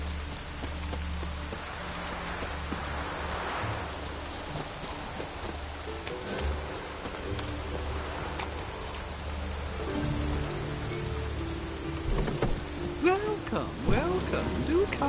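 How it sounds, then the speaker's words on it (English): Steady rain patters down in The Witcher 3 with a low game-score drone beneath it, continuous and even, with a few brief voices near the end. "Looked like it would rain, and here it is."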